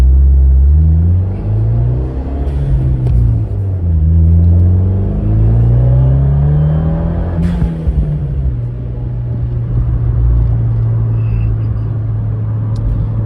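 A Fiat 124 Lusso on a drive, its engine droning loudly from close by, pitch rising and falling through gear changes before settling into a steady cruising hum.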